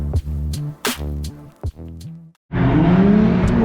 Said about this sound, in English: Got the Mustang out, old reliable, for a little Friday night drift.